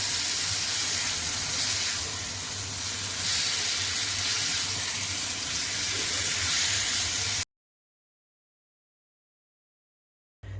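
Marinated chicken cooking in hot oil over a low flame, giving a steady soft sizzle and hiss that runs for about seven seconds and then cuts to silence.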